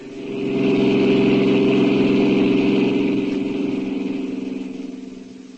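A car engine runs steadily as a sound effect in a detective radio drama, a low droning hum that swells in after half a second and holds loud before easing slightly, with no voices over it.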